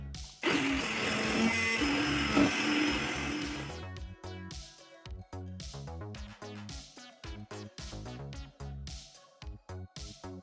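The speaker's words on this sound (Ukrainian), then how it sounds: "Беремо, ребят, блендер и взбиваем." A blender purees lentil soup in a steady, dense whirring burst that lasts about three and a half seconds and then cuts off, giving way to a rhythmic backing beat.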